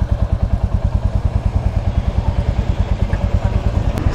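A Royal Enfield Classic Reborn motorcycle engine idles close by with a steady, fast thumping rhythm, loud and continuous.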